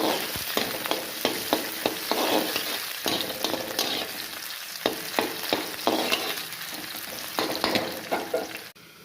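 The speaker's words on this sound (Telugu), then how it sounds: "చూద్దాం ఎంతవరకు ఫ్రై అయిందో చూద్దాం" Finely chopped onions fry in a pan, restaurant style, under a constant sizzle, while a spatula scrapes and knocks against the pan in a quick, regular rhythm throughout.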